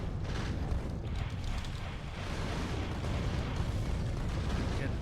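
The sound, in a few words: rockets fired at worms in video game Factorio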